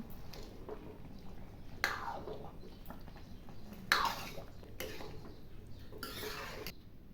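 A spoon stirs foxtail millet khichdi in a pot, making a few short, fairly quiet scraping strokes spaced seconds apart over a hushed background.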